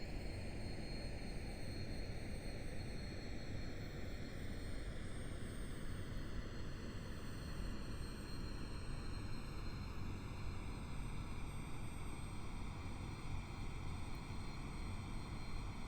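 Learjet 45 jet engines spool up as power is brought up to about 73 percent on approach in the pattern, a steady loud roar with rising whine tones heard continuously, without talk.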